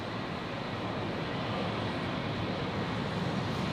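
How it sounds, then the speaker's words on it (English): A Rex airliner takes off from runway 19 left at Brisbane, a steady broadband roar of engines and rushing air heard from a distance, holding even in loudness throughout. "Just rolling now on 19 left, departing to Sydney."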